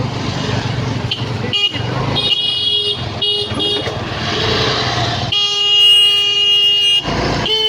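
Horns from cars and trucks stuck in a traffic jam near new bridge construction, honking repeatedly and sometimes in long loud blasts close by, over a constant rumble of engines.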